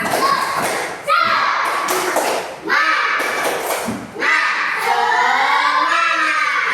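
A class of young schoolchildren performs a rhythmic spirit-clap chant together, loud and close, with sharp bursts of group clapping separated by brief pauses and children's voices chanting and shouting along.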